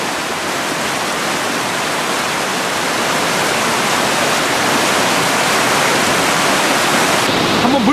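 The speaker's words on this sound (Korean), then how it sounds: "한번 물소리 들어보세요." Water rushing steadily at the spring source of Tel Dan in northern Israel, a loud, continuous broadband roar like a small waterfall or fast stream, close by and unbroken, with no voices over it.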